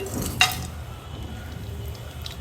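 Whole biryani spices hit hot ghee and oil in a pan, giving a steady, close sizzle and crackle with a brief sharper spatter near the start, no voices.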